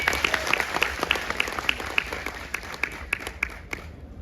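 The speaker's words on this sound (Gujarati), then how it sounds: "હાલો, એકવાર જોરદાર તાળી થઈ જાય." Audience at a Gujarati Adivasi song launch event clapping, bursts of hand claps in a fairly regular rhythm, a small crowd nearby with faint murmurs behind.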